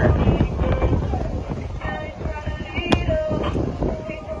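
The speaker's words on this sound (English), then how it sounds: "It was a bit windy." Wind buffets the microphone in a steady, rough rumble in Belize, with faint water and boat noise underneath and no clear talk.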